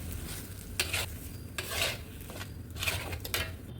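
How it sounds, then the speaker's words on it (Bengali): A spoon stirs green pea filling in a pan to dry off the water, giving repeated scraping strokes against the metal over a soft sizzle, close and steady with no talk. "এবারে এটা নেড়ে নেড়ে পুরো জলটা শোকাবো।"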